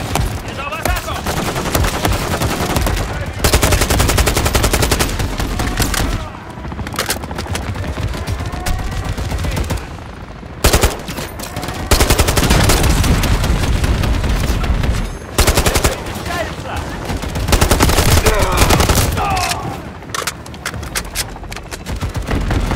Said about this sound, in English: John got a mounted MG coming your way on an armored vehicle.